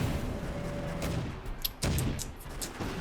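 Mortar fire from the Blitzkrieg 2 strategy video game: several sharp distant thumps and bursts spaced out over a low rumbling battle background.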